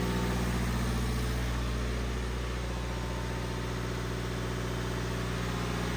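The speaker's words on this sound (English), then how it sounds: "You can hear the revs going up" Mercedes diesel engine running unattended during DPF regeneration, a steady close-up idle drone with a constant low hum, revs holding high and even throughout, no voices.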